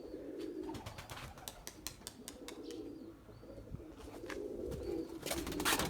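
Pigeons coo in a low, steady murmur from a rooftop loft of racing birds, faint and ongoing, with scattered clicks and wing flutters and no one speaking.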